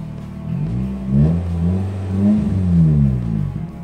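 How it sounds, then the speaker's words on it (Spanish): A manual-transmission car's engine revs up repeatedly, rising and falling in pitch in close, rumbling surges. "entre más yo acelero el carro,"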